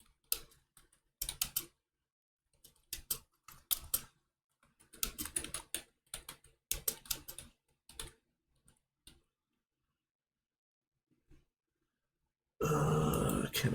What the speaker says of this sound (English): let me type something really quick.